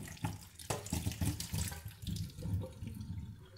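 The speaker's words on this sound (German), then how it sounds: "die grünen Bohnen und den Gemüsemix über dem Waschbecken zu leeren, damit das Wasser gut abfließen kann" Water from opened canned green beans and a vegetable mix pours and splashes into a kitchen sink as it drains, a close, uneven trickling with irregular bursts, no talking.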